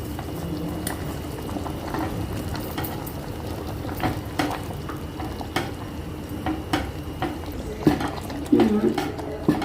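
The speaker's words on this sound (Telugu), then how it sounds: "ఇప్పుడు సేమియా వేసుకోవాలి." Roasted vermicelli is added to a pot of payasam and stirred, giving a steady simmering, bubbling sound with scraping and stirring knocks throughout.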